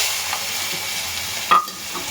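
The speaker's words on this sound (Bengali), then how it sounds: "তেল গরম হয়ে গেছে, দিয়ে দিলাম তেজপাতা" Bay leaves dropped into hot oil, with a steady frying sizzle throughout and a brief louder crackle burst about midway, no voices.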